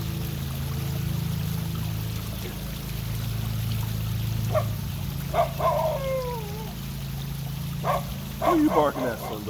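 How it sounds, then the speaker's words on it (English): A few sharp dog barks and yelps scattered over a steady outdoor rumble of running water, moderately distant. "Who are you barking at, Simba?"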